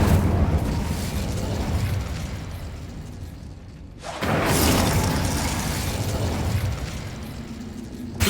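Incendio fire spell blasts in Hogwarts Legacy, two loud roaring whooshes of flame, the second erupting after a brief dip, close and dense over a rumbling low bed with no talk.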